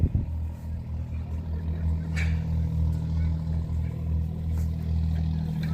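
Vauxhall Vanguard engine idling steadily at close range, a low continuous rumble throughout with a brief sharper burst near the start and voices talking over it at a muddy outdoor motoring event.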